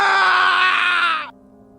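A sound effect of a ship captain screaming at midnight in a haunted house story: one loud, strained, sustained cry lasting just over a second, then cut off abruptly into near silence.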